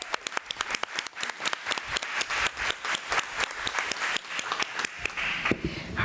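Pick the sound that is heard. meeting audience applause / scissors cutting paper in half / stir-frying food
meeting audience applause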